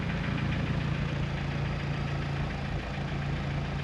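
A Mercedes S300 car engine idling at about 850 RPM, a steady close low rumble with an even pulsing throb and faint rattly knock, running alone throughout without any talking.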